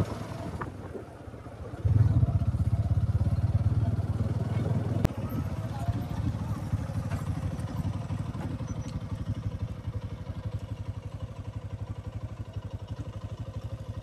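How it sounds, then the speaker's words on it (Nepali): A scooter's engine hums nearby on a misty hilltop road at Chauki Danda, swelling suddenly louder, then holding a steady low drone that gradually settles. A voice talks in the background. "उताबाट स्कुटरमा आउनु भएको पनि देख्नुभयो होला हजुरहरूले"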